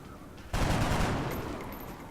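Loud burst of gunfire in the game XCOM erupts abruptly after a quiet moment, a dense volley that sustains and slowly decays over the next second and a half.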